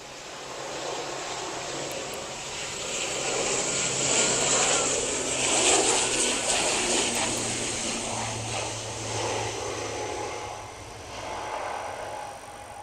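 ATR turboprop airliner on a Newquay flight, a broad propeller drone that swells as it passes nearby and then fades, heard alone with no talk over it.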